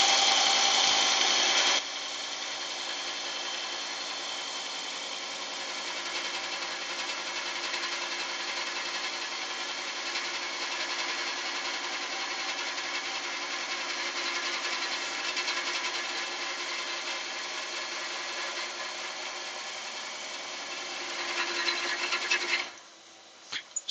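A large drill bit bores slowly into a resin blank spinning on a woodturning lathe, a steady continuous whirring drone that holds level for about twenty seconds, then rises briefly before cutting off.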